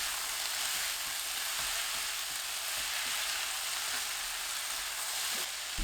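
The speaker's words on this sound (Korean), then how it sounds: "파 넣고 30초 볶습니다." Zucchini and fish cake stir-frying with green onion, seasoned with tuna sauce and fine salt, sizzles loudly and steadily in a hot pan, a continuous close frying hiss with faint stirring scrapes and no talking.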